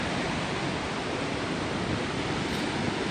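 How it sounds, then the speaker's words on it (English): Coomera Falls on the upper Coomera River sends up a broad, unbroken roar of falling water. The rush is dense and steady and fills the whole span, with no voices over it. "There's waterfall."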